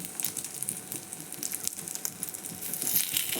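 A spoon omelette sizzling in a frying pan, a steady crackling fry close by with small bursts of spattering and a slight swell near the end as it is flipped.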